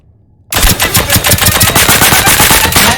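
Automatic gunfire in the Deceive Inc. video game bursts in after half a second of quiet, a loud, rapid stream of about fifteen shots fired close up.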